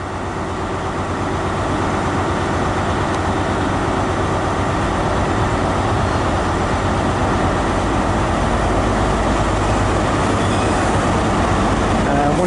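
Passenger train from London Paddington with a blue power car at each end and a green set, heard close and loud as a steady rumbling engine drone that holds for the whole stretch.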